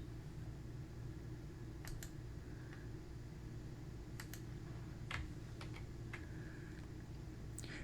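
Soft, sparse keystrokes on a computer keyboard tap out a password in short bursts over a steady low fan hum, quiet and close.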